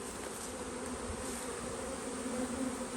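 An open-air honey bee swarm moving into a trap beneath a tree, a dense, continuous droning buzz of many bees close at hand, steady in loudness throughout.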